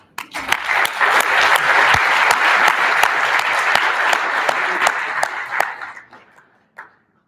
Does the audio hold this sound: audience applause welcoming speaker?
yes